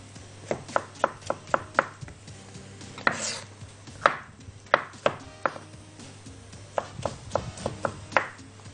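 Artichoke being chopped on a board, a series of crisp, close knife strikes in quick bursts with short pauses, plus a brief scraping sweep midway, no voices.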